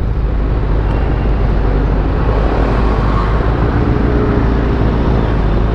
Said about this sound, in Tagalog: Grabe, traffic na.